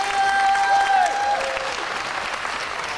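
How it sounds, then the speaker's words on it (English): Lively applause rises from the crowd at a CrossFit-style fitness competition athletes' briefing, loudest in the first second and then easing to a steady clapping, with a brief high tonal sound over the opening. "So please, give an applause for Belinda before she starts working out."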